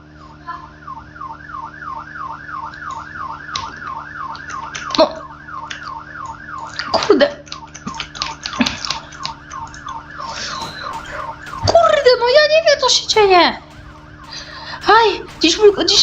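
A wailing police siren sounds in the Roblox game Brookhaven, its rising and falling tone steady at first. Later it breaks up into choppy, shifting siren bursts, interrupted by thuds and intermittent noises.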